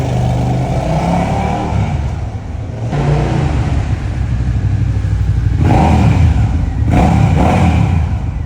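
A motorcycle engine revs loudly and close, rising and falling in several bursts of throttle over a steady running drone, with no talking.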